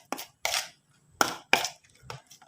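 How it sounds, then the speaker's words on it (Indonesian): Short scraping, chopping-like strokes in a bowl as a durian-scented clam catfish bait mixture is stirred, about six irregular close hits with quiet gaps, no talk. "Kita aduk lagi Mas Bro sampai merata"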